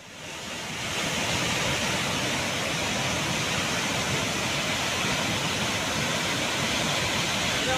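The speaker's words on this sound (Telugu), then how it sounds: "బొగతా జలపాతం ఉగ్రరూపం దాల్చి ఉప్పొంగి ప్రవహిస్తోంది" Flood water roars over Bogatha waterfall in Telangana, a dense, steady broadband rush that swells in during the first second and then holds loud and unbroken, with no voices.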